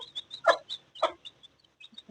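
A hen's chicks chirp close by, a few thin high peeps scattered between two louder throaty clucks from the hen.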